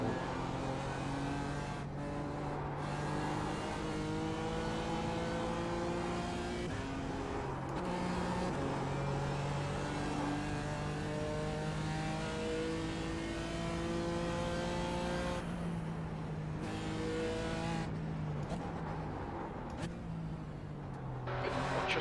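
BMW M4 GT4 race car at Summit Point Raceway, its engine droning loud and steady from onboard, pitch climbing and dropping repeatedly through gear changes as the throttle is feathered.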